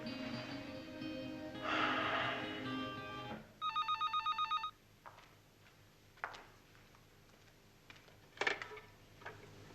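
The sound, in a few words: telephone ringing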